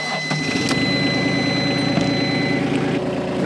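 An excavator fitted as a wood splitter idles while its hydraulics warm up, producing a loud, steady, continuous engine drone with a constant whine layered over the low rumble.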